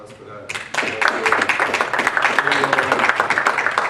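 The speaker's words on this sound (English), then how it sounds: "round of applause for that." A round of applause builds from an audience at a Bitcoin introduction talk in Fargo, dense steady clapping rising after a brief pause and continuing close and loud, with some voices underneath.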